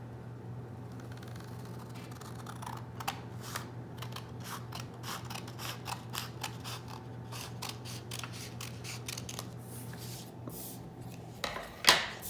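Scissors snip through paper to cut off a rectangle, a run of quick close crisp cuts over a steady low hum, with no talking.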